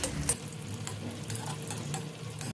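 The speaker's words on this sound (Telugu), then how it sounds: "నెయ్యి వేడెక్కిన తర్వాత ఇందులో సన్నగా తరుగున్న కాజు, బాదం, కిస్మిస్ని కూడా వేసుకొని ఫ్రై చేసుకోవాలండి" Thin-sliced cashews, almonds and raisins fry in hot ghee with a continuous soft sizzle, punctuated by a few sharp clicks of a spoon against the pan, close up with no talking.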